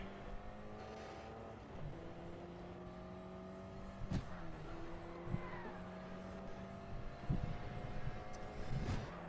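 Racing cars in a racing video game circulate the track, their engines droning faintly with shifting pitch tones and a few brief, sharp bumps or revs scattered throughout.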